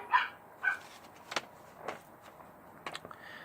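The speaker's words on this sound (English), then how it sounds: "I don't know why she's barking." A dog gives a few short, sharp barks and yips indoors, spaced out irregularly over a few seconds, fairly close and moderately loud with quiet gaps between.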